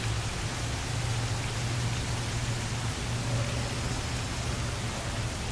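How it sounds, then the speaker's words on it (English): Steady rain falls outdoors as a constant broadband hiss of drops, even and unbroken, with a low hum beneath and no voices. "We're gonna get some rain ambience."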